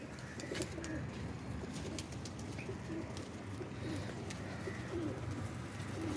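Pigeons coo softly and steadily from close by, the low murmuring continuous across the scene with no one talking over it; the birds are blue (neelay) pigeons.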